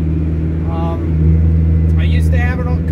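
A turbocharged Honda Prelude H22 engine running with VTEC and nitrous, a loud, steady low drone with a strong harmonic hum throughout, with a voice talking over it.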